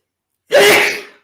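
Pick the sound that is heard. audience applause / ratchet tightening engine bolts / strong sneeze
strong sneeze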